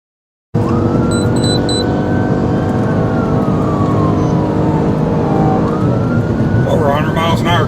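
A loud police siren wails steadily over a roaring engine, close by, with a rising yelp toward the end.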